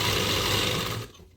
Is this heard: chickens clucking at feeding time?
no